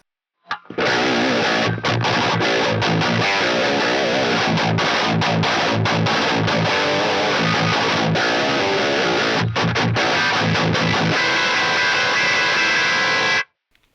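A loud distorted electric guitar, a Bacchus seven-string through an Axe-Fx III with a Fortin Grind-style boost, plays continuously, thick, crunchy overdriven chords with short breaks between strums, no talking.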